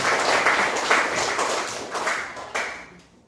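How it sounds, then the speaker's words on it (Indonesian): A school class applauds on the teacher's request, a short burst of scattered clapping from a small group that fades out over about three seconds. "Ya, tepuk tangan dulu kalian"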